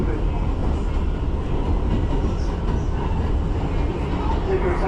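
A Bronx 6 subway train on the move, a steady loud rumble and rattle of the car with a constant roar throughout, heard from inside the train.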